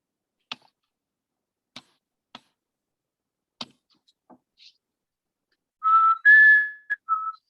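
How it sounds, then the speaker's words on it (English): A person whistles the closing bars of a song at an online annual celebration event for a watershed council, a few sharp clicks first, then a clear, close tune of sustained and wavering notes alone. "I whistled to the end of the song."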